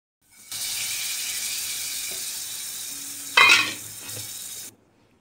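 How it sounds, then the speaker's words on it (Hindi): Hot tadka spiced with garam masala poured into a pot of Punjabi-style mixed dal, setting off a loud, steady sizzle that swells briefly near the end and then cuts off abruptly. "अब ये तड़का बिल्कुल रेडी हो चुका है। अब इसको हम दाल में डाल देंगे।"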